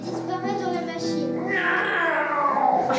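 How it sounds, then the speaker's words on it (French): A cat screams in a drawn-out, rising and wavering yowl, close and loud, lasting a few seconds. "Le chat hurle et disparaît dans la machine."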